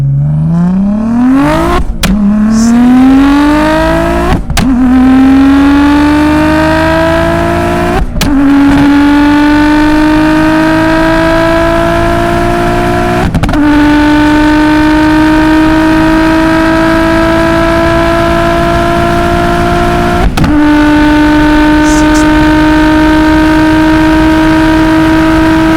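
A modified Audi S4 B5 accelerates hard from first gear on a clear night Autobahn straight, its engine note climbing loudly through repeated upshifts, with a brief break in the pull at each gear change and no talking.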